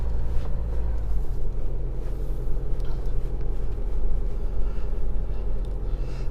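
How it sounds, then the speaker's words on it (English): A steady low diesel engine grumble fills the cabin of an Isuzu D-Max AT35 pickup driving on snow, a constant deep rumble with a slight rattling texture and no talking. "there's a bit of diesel grumble coming into the cabin"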